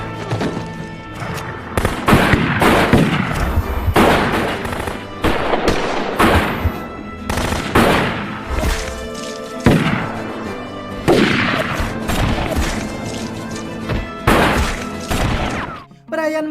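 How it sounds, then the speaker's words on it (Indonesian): Gunfire erupts in a film shootout scene, with loud, dense volleys of sharp shots and crashing impacts repeating throughout and a brief lull near the end. "Namun kekacauan terjadi setelah Rocker menembak salah satu kartel tersebut."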